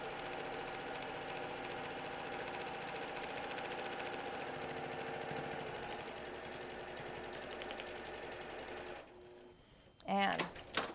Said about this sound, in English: the stitch is going to get a little bit longer and a little bit longer